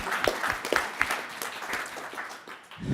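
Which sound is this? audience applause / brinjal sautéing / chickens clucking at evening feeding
audience applause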